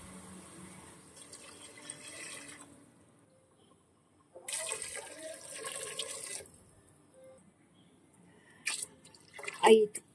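Water pours in short bursts into a pressure cooker, about five glasses, splashing and gurgling between quiet pauses, with a voice talking softly in between.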